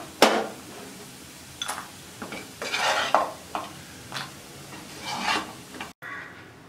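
A spoon stirs colocasia (taro) fry in a pan, giving intermittent metallic scrapes and clinks over a faint sizzle, close and moderately loud.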